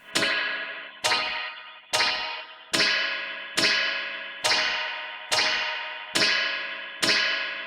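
Pulsar Primavera spring reverb with its tension turned up, struck by nine evenly spaced sharp hits about a second apart, each opening in a bright, tight metallic splash that rings down before the next strike.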